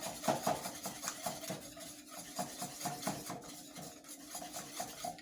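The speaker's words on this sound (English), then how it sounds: "If you want, you can whisk it up again." Vegetable sauce for scalloped potatoes being whisked in a bowl, a steady run of quick scraping, clinking strokes close by, with no talking.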